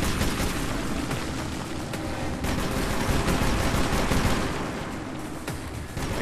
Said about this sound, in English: I can't tell if they're shooting at me or not.